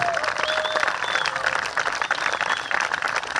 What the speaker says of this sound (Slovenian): dajmo nameniti še en lep aplavz za pogum